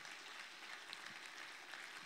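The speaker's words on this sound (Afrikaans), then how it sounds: "Kom ons staan, ons klap met hande vir Jaco." A church congregation claps steadily, a dense even patter of many hands sustained throughout at moderate level, with no talk standing out above it.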